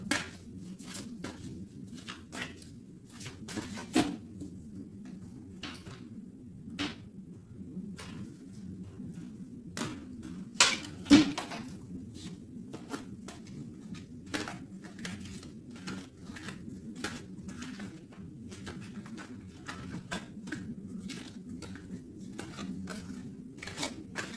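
A deck of tarot cards is cut for a reading, giving faint, crisp card snaps and clicks at irregular intervals over a quiet, low room hum, with no speech.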